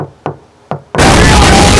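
Three sharp knocks on a front door, evenly spaced and close by, followed by a sudden burst of loud broadband noise that masks everything after.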